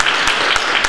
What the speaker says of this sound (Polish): Myślę, że brawa się należą, moi drodzy